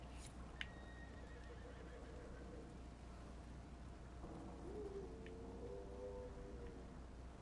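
A horse neighs midway through in the video game Dragon Age Inquisition, a drawn-out whinny over steady rain with a sharp crack of thunder early on.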